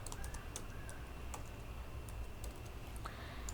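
Computer keyboard typing while writing PHP code, a quiet run of irregular key clicks with brief pauses, close to the listener against a low background hum.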